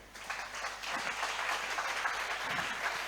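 Church congregation applauding in acclaim during a worship service, a continuous wash of clapping building quickly and holding steady, moderately loud and fairly close.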